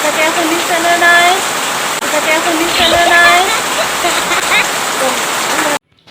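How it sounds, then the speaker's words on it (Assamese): Steady, dense rain pours down at a home in Assam on a cool summer day, a loud continuous hiss with a faint voice or birdsong drifting over it, cutting off abruptly just before the end. "এতিয়া বৰষুণ দি আছে"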